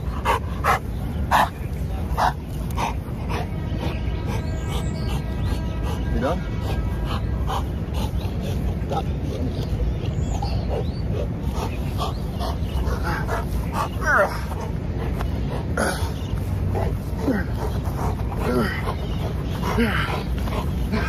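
A strong dog on a walk without a leash in public, near water, whimpers and yips now and then across a long stretch of steady outdoor noise. Someone talks throughout.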